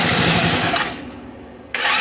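A retro-style GY6 scooter engine, abandoned for 15 years, starts up: a loud, raspy mechanical roar that dips briefly, then surges back into a steady running drone.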